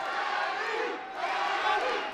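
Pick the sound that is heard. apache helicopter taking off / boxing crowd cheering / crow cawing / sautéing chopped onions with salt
boxing crowd cheering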